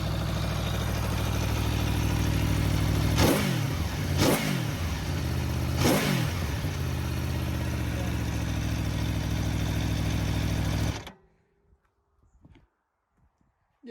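A Kawasaki H2 SX SE sport touring motorcycle engine in standard form idles steadily, then is revved sharply three times in quick blips before cutting off into near silence.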